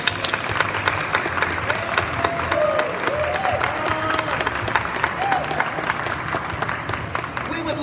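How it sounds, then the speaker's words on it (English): A crowd applauds student and staff models at the close of a fashion show, with sustained dense clapping and a few scattered cheers running steadily throughout. "if we could give one more round of applause for our student models and our staff models"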